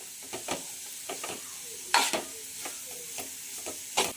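Grated raw papaya frying quietly in a pan, with soft scraping stirs and clatters of a spatula recurring every half second or so over a low sizzle, one sharper knock standing out midway.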